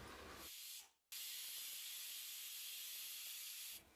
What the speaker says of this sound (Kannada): ಇವಾಗ ನಾವು ಕುಕ್ಕರ್ ಮುಚ್ಚಳನ ಮುಚ್ಚಿ 2 ವಿಷಲ್ ತಗೋಬೇಕು